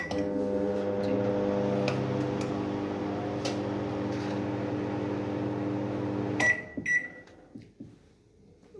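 A Samsung microwave oven running in convection mode, a steady close electrical hum with overtones and faint ticking, which cuts off abruptly and is followed by a short electronic beep and quiet clicks.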